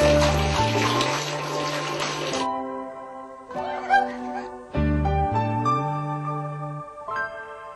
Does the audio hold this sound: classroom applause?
no